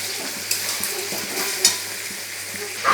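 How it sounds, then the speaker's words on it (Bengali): Chicken pieces frying with already-fried onions in a pan for home-style biryani, a steady close sizzle broken by a few stirring scrapes and clanks, with no talking. "চিকেনগুলো দিয়ে একটু ভাজতে হবে।"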